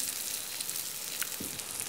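Pumpkin sizzles in a hot frying pan, giving a steady close-up hiss of frying with a soft bump partway through.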